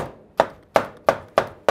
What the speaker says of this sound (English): Why are you chopping it up like that?